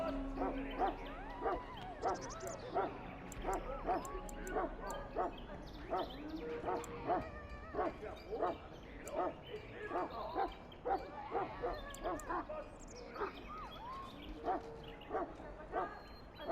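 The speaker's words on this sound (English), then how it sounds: "You're quite lucky to have your own Mabari warhound, you know." A Mabari warhound in the Dragon Age Origins video game, giving repeated short barks, yips and whimpers in an irregular rhythm, fairly close, mixed with speech.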